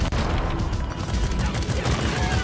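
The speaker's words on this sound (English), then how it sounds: "I'm shooting you in the back of the head because you walked right in front of me" Rapid gunfire from weapons in the video game Deep Rock Galactic rattles on continuously in a dense, loud stream of shots with booming low end, with no pause across the short stretch.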